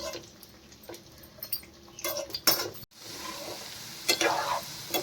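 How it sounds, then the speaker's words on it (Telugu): Broad beans for chutney frying in a pan, with soft sizzling, a few spoon stirs and scrapes, and occasional clinks against the pan. "ఇక మంచిగా ఇట్లా ఫ్రై కావాలి ఫ్రై అయినాయి"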